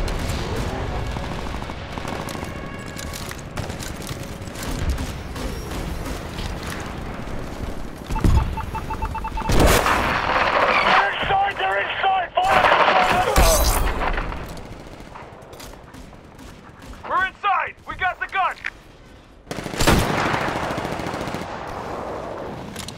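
Video game battle against IMC soldiers with loud gunfire: rapid automatic bursts, single shots and booming impacts, close and intense, with brief pauses between volleys.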